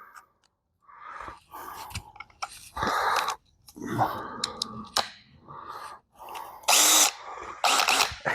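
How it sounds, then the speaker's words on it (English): A power drill whirs in short bursts during car body work, starting and stopping several times, close by, with brief clicks and handling noises between runs. "So same thing, we'll put it in the drill, we'll tighten it down."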